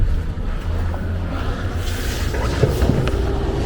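Refrigerant escapes from a leaking heat pump muffler with a steady loud hiss, like rushing air, running unbroken throughout with no talk.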